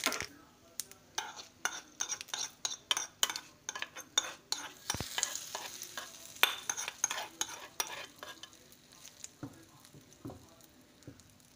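Mustard seeds, urad dal and curry leaves crackling in a small pan of hot oil, stirred with a spoon for a garlic chutney tempering, with rapid close scraping taps and light sizzle, no talk.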